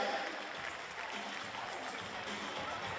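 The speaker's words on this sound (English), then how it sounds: "Give them a big round of applause." Applause from a crowd in the AIS Arena at a women's basketball game, a steady, moderate wash of clapping with crowd murmur mixed in and no clear break.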